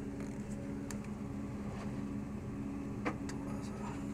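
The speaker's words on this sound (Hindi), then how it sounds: "थोड़ा सा ना, ये बैरिंग की आवाज है," A motorhome engine with a worn pulley bearing and a suspected failing AC compressor runs at idle up close. It gives a steady mechanical hum with faint intermittent ticks and clicks, and no talk is heard.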